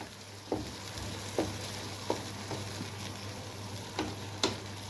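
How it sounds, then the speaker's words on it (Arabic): Bolognese sauce with garlic and bay leaf being mixed in a pan, a low steady sizzle broken by a few sharp spoon taps against the pan at regular intervals, close and soft. "نخلط كلش في بعضها هكذا باش نتحصل على اون صوص بولونياز."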